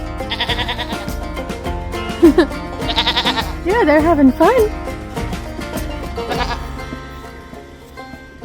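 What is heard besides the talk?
goats bleating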